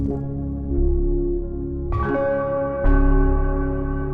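Electronic bell tones in a live music production, sustained ringing pitched notes layered over a low drone, with two fresh struck chimes entering in sequence close and clear.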